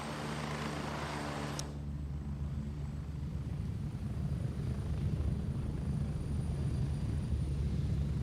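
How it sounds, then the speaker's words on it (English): A helicopter arrives in a jungle combat video game, its rotor and engine making a steady, low, throbbing drone that grows slightly louder and nearer as it goes on, with no talk. "Oh, the helicopter's already here."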